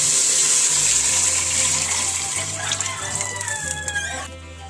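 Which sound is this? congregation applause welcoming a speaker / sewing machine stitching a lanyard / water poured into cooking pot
water poured into cooking pot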